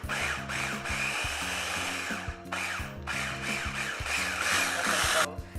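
A food processor grinds chickpeas for hummus in loud whirring bursts, its motor starting and stopping repeatedly with brief pauses between the pulses.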